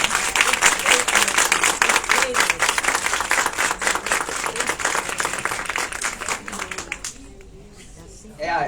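An audience claps and cheers loudly after a talk about a long journey made for love, sustained dense applause that fades over several seconds, with speech heard near the end.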